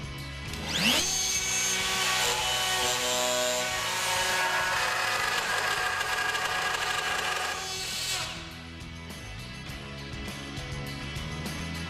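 Power drill boring a hinge hole in wood through a drilling template for an invisible hinge, a steady loud whirring cut running for about seven seconds before spinning down, with a lower motor hum carrying on afterward.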